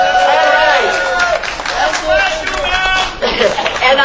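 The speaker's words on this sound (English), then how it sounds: "Let's give them a round of applause" Hall audience applauds for the Laotian Royal Police at a city hall gathering, a loud, continuous wash of clapping with crowd murmur and some voices mixed in, lasting the whole stretch.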